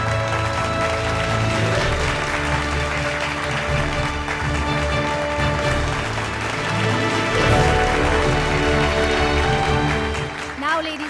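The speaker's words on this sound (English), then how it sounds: "Let's have a huge round of applause." An audience at a healthcare innovation awards finale claps as a team is welcomed on stage, steady applause running under loud stage music and a voice, with the clapping partly masked by the music.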